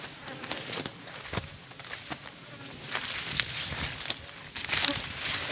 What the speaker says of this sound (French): Oh, une petite abeille qui nous rend visite.